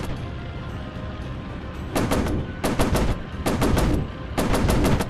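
Machine guns of an F7F Tigercat fighter in a WWII warplane VR game fire four loud, close bursts of rapid shots in quick succession after a quieter stretch of engine rumble.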